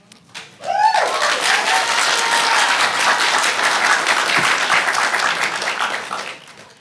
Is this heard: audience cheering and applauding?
yes